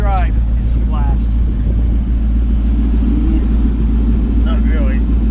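A Mustang's engine and aftermarket exhaust drone with a deep, steady low rumble heard from inside the car, while people talk over it.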